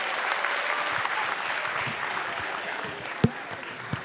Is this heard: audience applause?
yes